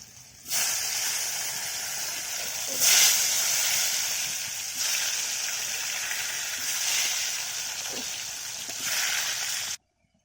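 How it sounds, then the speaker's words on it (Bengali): Potato pieces frying in hot oil in a home kitchen, a steady close hiss and sizzle with a few louder bursts as they are added, running until it cuts off near the end. "এবার আলুগুলো ভাজতে দেবো।"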